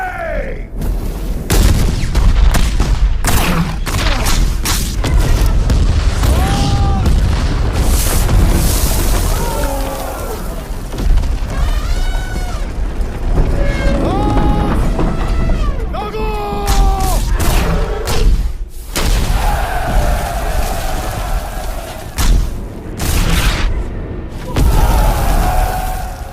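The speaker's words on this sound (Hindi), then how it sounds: "अपनी तोपें दागो इन पे" Heavy cannon fire and explosions in a period Indian action film battle scene: repeated deep booms and thuds crash through a chaotic mix, with shouting voices and battle noise layered between the blasts.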